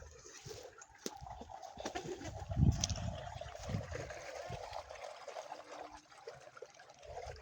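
Irrigation water trickles and gurgles along a farm field channel outdoors, with a faint bird or two and brief low bumps in the background.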